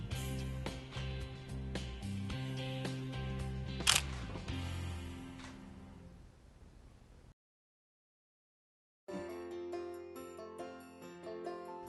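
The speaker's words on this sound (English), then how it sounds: "In the single release mode, we'll need to press the shutter button 3 times to take separate bracketed shots." Shutter clicks from a Nikon D7100 DSLR firing bracketed shots in single release mode come as dense mechanical clatter, with one sharp louder click, then a stretch of silence before more clicking resumes.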